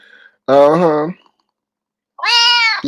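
A human voice imitating a cat, giving two loud, drawn-out meows close to the mic with a silent gap between them.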